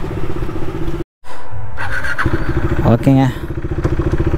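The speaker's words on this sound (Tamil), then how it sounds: "வண்டி சவுண்டு கொஞ்சம் டிஃப்ரெண்ட்டாக இருக்குது" A motorcycle engine, just back from a repair and running a little differently, rumbles loud and close throughout. It cuts out for a moment, and a voice speaks over it.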